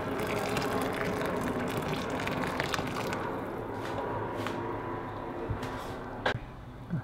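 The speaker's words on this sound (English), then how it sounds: "here I'm gonna pour boiling hot water over it so that it cooks within hopefully a couple seconds" Boiling water poured over dried rice noodles, a steady gushing stream with splashing that runs continuously, with a few sharper clinks and taps near the end.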